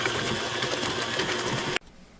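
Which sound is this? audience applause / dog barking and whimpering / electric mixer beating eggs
electric mixer beating eggs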